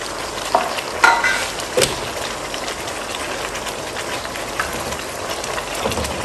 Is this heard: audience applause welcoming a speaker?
no